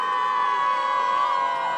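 A crowd turning nasty in early-1900s Surrey during the women's suffrage campaign, heard as a brief, sustained wash of raised, overlapping shouting voices at steady loudness.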